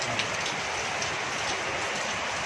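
Heavy rain pours down in a steady, dense hiss, constant and close throughout, with no voices.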